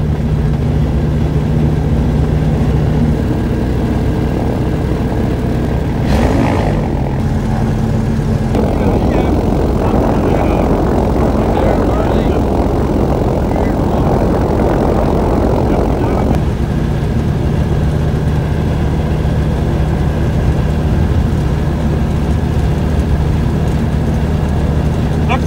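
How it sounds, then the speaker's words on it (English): Small propeller aircraft landing, heard from inside the cabin as a loud steady engine drone with a rougher rumbling stretch midway, continuous throughout. "First landing in the new aircraft"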